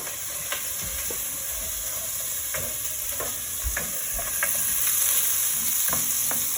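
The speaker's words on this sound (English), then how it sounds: "Onions and garlic. In that goes." Onions and garlic sautéing in a soup pot for hamburger soup, a steady hissing sizzle with intermittent spoon stirs and scrapes against the pot, close and even, growing slightly louder toward the end.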